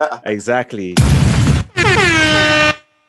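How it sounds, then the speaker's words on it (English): A blaring air horn sound effect blasts in two long bursts, the second sliding downward, right after a short spoken word. "Pop in those air horns."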